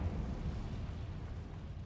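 A Confringo blasting spell explodes in the video game Hogwarts Legacy, a short, dense, low booming burst that rumbles for about two seconds.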